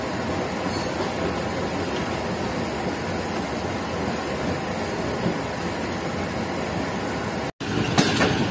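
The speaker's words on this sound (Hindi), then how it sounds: "तो ट्रेन अब प्लेटफॉर्म नंबर 2 से मेन लाइन पर चढ़ रही है" Shah Hussain Express on the Karachi–Lahore route rolls steadily from platform 2 onto the main line, a continuous near rumble of wheels and carriages with faint clatter and a brief dropout near the end.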